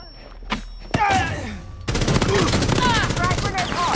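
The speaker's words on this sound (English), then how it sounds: "Stun grenade out." A stun grenade goes off in the mobile shooter Rainbow Six Mobile, a sudden loud burst that gives way to dense, rattling gunfire and chaotic combat noise over several seconds.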